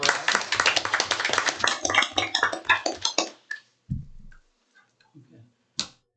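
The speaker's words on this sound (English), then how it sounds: "How about a round of applause for her?" A small group at a health board meeting claps in brief, uneven bursts that thin out after about three seconds, leaving a few scattered claps and faint murmurs in a quiet room.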